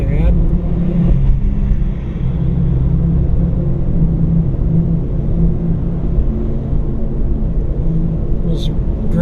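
A 4x4 on a snowy road trip crosses a metal road grating, producing a loud, continuous low rumble and tire drone up close, with a brief higher rattle near the end.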